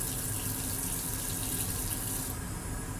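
Tap water runs steadily into a container while film developer solution is mixed for processing black and white film, a constant rushing splash that shifts in tone near the end as the fill changes.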